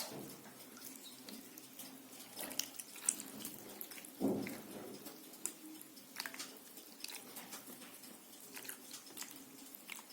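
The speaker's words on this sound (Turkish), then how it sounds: "Şimdi üzerine döküyoruz" Hot syrup is poured over kadayıf dessert in cups, making a quiet, steady trickling stream with a few small drips and light clicks, and no voices.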